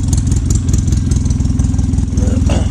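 Polaris Ranger 800 XP utility vehicle with a custom exhaust idling, a loud, steady, pulsing low rumble heard close, with a brief rise near the end.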